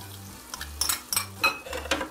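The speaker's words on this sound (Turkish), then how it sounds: "Salçamızı birazcık kavuruyoruz" Tomato paste frying in a pan after the tomatoes have cooked, with a spoon stirring it: several quick metallic clinks and scrapes over a soft sizzle, close and brief.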